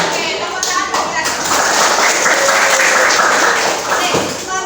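Schoolchildren in an Indonesian classroom break into a dense burst of applause, many hands clapping at once while voices carry on over it.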